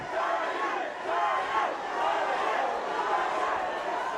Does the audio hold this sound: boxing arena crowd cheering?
yes